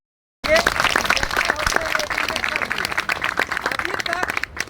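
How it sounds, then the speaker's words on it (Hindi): A crowd at an outdoor political gathering in a village claps hard after a moment of silence, the dense clapping holding steady and close throughout while a voice rises over it at times. "इसलिए अपने लिए ताली बजा रहे"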